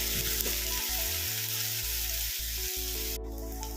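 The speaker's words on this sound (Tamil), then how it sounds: "வெங்காயத்தை நல்லா வணக்கிக்கங்க" Onions sizzling steadily in a hot pan for a chickpea kurma, with a little salt added. The frying hiss is loud and continuous at close range, with a faint low hum underneath and no voices.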